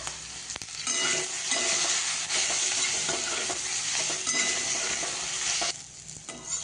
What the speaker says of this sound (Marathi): छान एक 3 मिनिटं परतून घेऊया